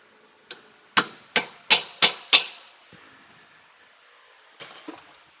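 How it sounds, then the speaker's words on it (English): A hub bearing is being hammered back into place on a Subaru with a run of five sharp, ringing metal blows close up, followed by a pause and then a few lighter knocks. "I do want to hammer that back on there because I know I can get this one further"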